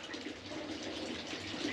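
Water pours in a steady, close gushing stream into bread dough made with an old-dough starter, running continuously with no talking over it.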